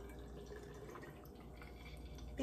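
Thick sea moss and elderberry gel poured into jars, a steady soft liquid trickle with faint drips running continuously, close and quiet with no talking.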